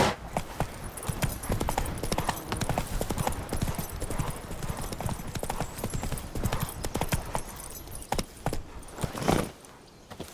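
Roach, Geralt's horse in the Witcher 3 video game, clip-clops in a steady, close hoofbeat rhythm with a light jangle of tack, briefly easing off near the end.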